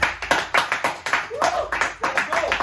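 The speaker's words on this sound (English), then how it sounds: "Can you have a round of applause, please?" A small group of podcast guests and hosts claps in brisk, uneven bursts, close to the microphone, with voices cheering and talking in between the claps.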